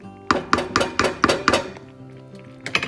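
A spoon stirring thick haleem strikes the metal cooking pot in a quick run of about six sharp clinks, then pauses before a final pair of knocks, close and clear.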